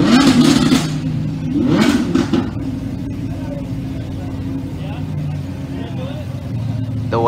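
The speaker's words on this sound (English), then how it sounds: "The way that felt when the Aventador revved" Lamborghini Aventador at a car show, its engine revving in two loud bursts in the first seconds, then settling into a rumbling idle with crowd noise and voices around it.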